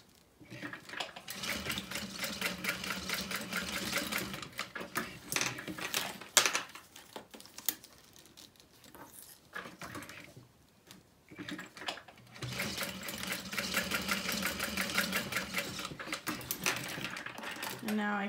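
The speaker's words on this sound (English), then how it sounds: "And I'm sewing from the front." Sewing machine stitching a handbag from the front, running in two long rapid bursts separated by a quieter pause with handling clatter, fairly close.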